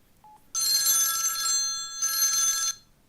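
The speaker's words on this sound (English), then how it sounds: "This is the sound of a ring." A telephone bell rings in two long trilling bursts separated by a short gap, loud and close, preceded by a faint brief tone.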